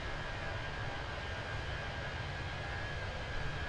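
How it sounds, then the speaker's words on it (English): Airbus A320 jet engines in the Fenix A320 flight simulator produce a steady, loud broadband roar with a faint constant whine. The sound holds unchanged throughout the clip. "Love listening to those engines. A little bit loud,"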